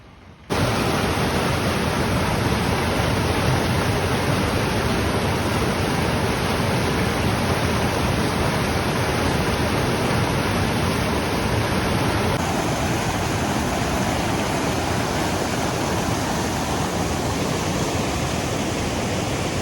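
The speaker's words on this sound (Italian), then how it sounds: "c'è acqua e torrenti che scendono da ogni parte" Mountain torrents and the Amola waterfall in Val Nambrone produce a loud, unbroken roar of rushing water that starts abruptly and holds steady for nearly twenty seconds, with no voices.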